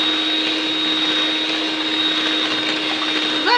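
A milk separator spins goat milk with a steady, loud mechanical whine and a constant hum, unbroken for the whole stretch, with no talking.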